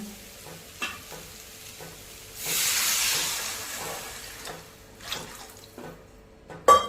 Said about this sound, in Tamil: போதுங்க இப்போ நம்ம தண்ணி ஊற்றிக்கலாங்க